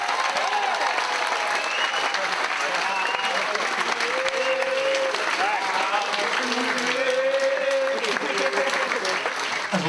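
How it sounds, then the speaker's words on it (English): A crowd at a football club's player of the season awards gives sustained loud applause for the players, steady clapping throughout with some voices and cheers mixed in. "give these guys a round of applause, please"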